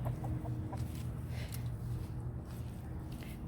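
Laying hens cluck softly amid a steady background hum inside a coop, low chicken murmurs repeating through the scene.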